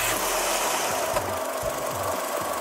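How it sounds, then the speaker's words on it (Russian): A Skoda Fabia II engine turning over and running after a brake fluid change, a steady mechanical hum with a few low rhythmic thumps, close and continuous. "После замены запускаем двигатель."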